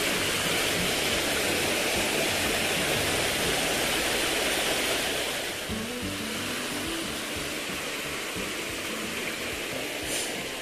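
River water flows in a steady, rushing broadband wash that stays constant and fairly loud, easing slightly halfway through, with no voices.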